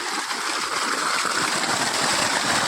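Irrigation water pours from an opened pipe into a paddy field, a steady close rushing gush of flowing water throughout with no speech.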